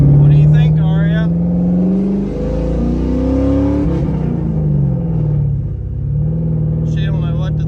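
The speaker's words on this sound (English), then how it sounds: "your car's so loud." A loud SN95 Ford Mustang engine idles and revs steadily, its deep rumble shifting in pitch as the throttle moves, with voices talking briefly at the start and end.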